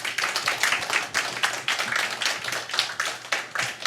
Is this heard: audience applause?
yes